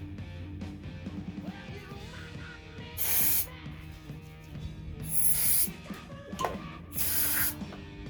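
Three sharp bursts of aerosol spray shot into the intake of a Honda TRX200SX ATV engine, each lasting about half a second to a second, heard close over a low, rumbling background.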